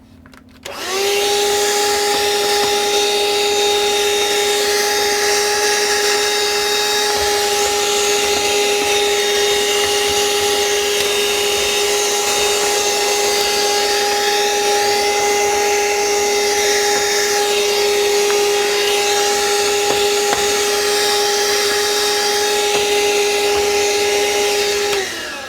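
A small Ryobi power tool grinds away metal and solder inside an amplifier. It produces one loud, steady high-pitched motor whine that starts abruptly and holds unbroken for about 25 seconds before cutting off.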